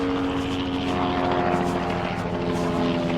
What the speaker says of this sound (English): I don't know what this helicopter is buzzing about.